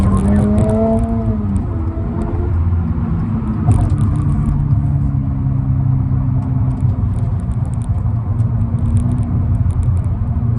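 From inside a 2023 Toyota GR86 on a track, the engine drones steadily and loudly as it pulls hard above 5,000 RPM, a constant close-up roar with a brief climb in pitch early on.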